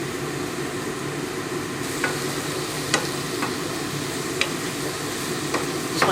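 A spoon stirs a seasoned chicken penne mixture around a sizzling pan. Steady frying hiss continues throughout, punctuated by a few sharp scrapes and taps of the utensil.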